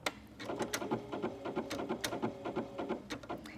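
A sewing machine stitches a seam while attaching a hand warmer to workout wear, running in a quick, steady mechanical rhythm of repeated needle strokes at close range, with no voices.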